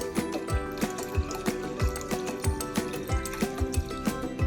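Water is poured into a pressure cooker holding washed rice, a close, steady pour with repeated splashy pulses running for several seconds.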